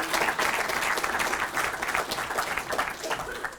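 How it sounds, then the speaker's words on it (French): Audience applause for the candidates at the semi-final of the Périclès eloquence contest, sustained steady clapping from a crowd filling the room, fairly loud and continuous throughout with some voices mixed in. "qu'on applaudisse et qu'on remercie nos candidats qui sont tous présents également"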